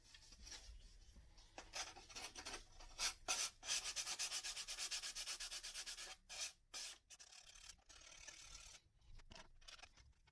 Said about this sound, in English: there's going to be lots of sanding on this part and on the back here to make it fit nice